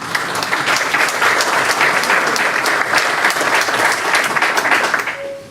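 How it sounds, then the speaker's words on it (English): At a political rally for state senator Robert Ort, the audience gives sustained, thick applause at full strength, then it thins and fades near the end as a brief tone sounds. "you can applaud at any time during the day"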